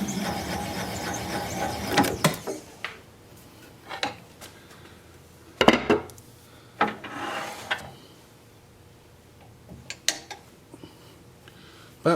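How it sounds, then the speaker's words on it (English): On a wood lathe, a tool cuts a live-edge cherry-plum bowl, scraping and rasping in repeated bursts separated by quieter spinning stretches, close and fairly loud, with no talking. "And I just want to finish this cut on the lathe."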